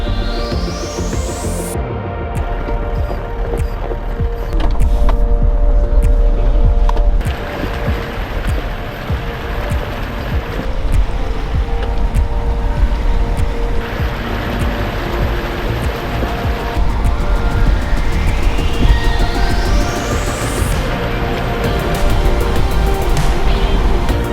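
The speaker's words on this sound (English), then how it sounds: "Another fun river crossing. This time it's called the Reynolds River East." A snorkel-equipped four-wheel-drive vehicle fords the Reynolds River East creek crossing in Litchfield National Park, with a steady, loud rush of churning water and engine noise that lasts throughout, with no voices.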